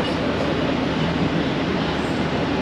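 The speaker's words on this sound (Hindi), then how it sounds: "डिपार्चर विसल हो गया और ट्रेन भी 2 मिनट के स्टॉप के बाद निकल चुकी है झेलम रेलवे स्टेशन से।" Awam Express passenger train pulling out of Jhelum railway station, a steady loud rumble of wheels and carriages rolling continuously throughout with no voices.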